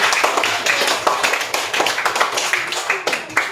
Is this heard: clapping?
yes